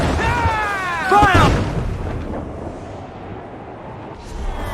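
Ship cannons boom in a naval battle in Assassin's Creed Black Flag, loud heavy blasts and rumbling bursts under shouted crew voices and ambient sea noise.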